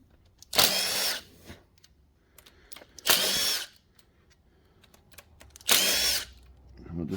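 Power drill or impact driver backing out valve cover bolts on a 2006 Subaru engine, three separate loud whirring bursts of about a second each, close up, with quiet handling gaps between them.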